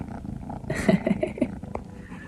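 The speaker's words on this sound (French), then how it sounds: "Des chats." Cats purr and murmur close by in a quiet morning setting on an overland journey toward Asia, a low rumbling texture with a few brief chirps over soft background noise.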